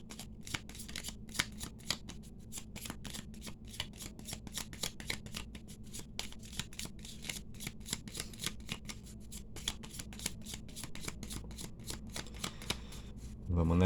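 A deck of cards is shuffled by hand at close range: a continuous run of crisp riffling and flicking snaps that lasts throughout, with no voice over it.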